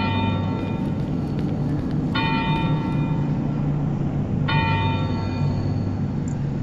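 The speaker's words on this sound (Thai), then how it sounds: "มีเสียงระฆังด้วยแหละ" In the horror video game Cry of Fear, two bell strikes ring out a couple of seconds apart in an open area, each with a clear lingering tone, over a steady low droning ambience.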